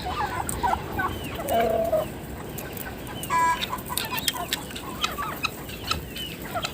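Chickens and young chicks cluck and peep in a backyard poultry yard, with scattered short calls and a few louder squawks over steady outdoor noise, no talking.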